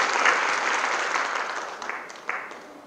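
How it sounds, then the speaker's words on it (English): Audience applause at a Class of 2020 visual communication graduation ceremony, a dense, steady wash of clapping from a crowd that slowly thins and fades, with a few sharper claps near the end. "So you can give a round of applause."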